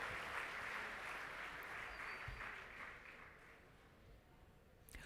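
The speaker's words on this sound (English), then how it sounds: "please give another round of applause to the champions of 2016 Talent Show" Audience applause for the champions at a CA students' conference talent show, a steady broad wash of clapping that holds at moderate level for about five seconds, fading slightly toward the end.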